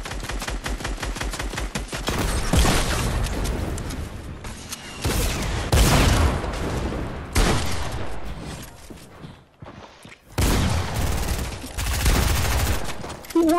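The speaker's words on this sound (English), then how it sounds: "Heavy assault rifle." A heavy assault rifle fires in a video game in loud, dense bursts with short pauses between them, close and harsh.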